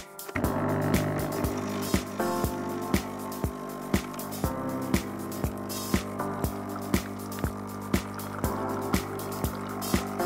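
A Krups Dolce Gusto Infinissima coffee machine pumps descaling water, a steady motor hum broken by regular rhythmic pulses, close and continuous.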